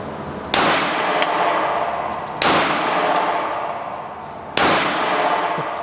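A Springfield XD-S .45 pistol fires three sharp, loud shots outdoors, evenly spaced about two seconds apart, each with a long ringing decay.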